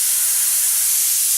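An airbrush sprays paint on a 1/48 Hasegawa Messerschmitt Bf 109E-3 model aircraft, giving a steady, close, bright hiss that holds even throughout.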